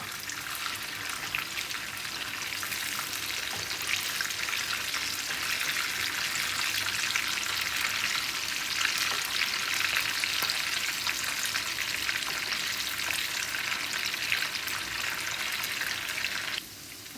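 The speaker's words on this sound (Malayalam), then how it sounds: "ചിക്കൻ ഫ്രൈ ആയിട്ടുണ്ട് കേട്ടോ" Chicken pieces fry in hot oil with a loud, continuous crackling sizzle heard up close. The sound stays steady for a long stretch and drops off abruptly near the end, with no talking.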